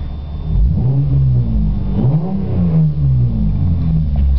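A car engine revs up and down repeatedly, loud and close, its pitch rising and falling in smooth sweeps with no voices.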